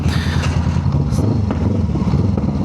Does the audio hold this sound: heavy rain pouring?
no